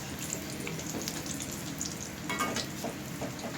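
Baby corn frying in a pan over medium flame for chilli baby corn, a close, continuous crackling sizzle with faint stirring noises and no talk.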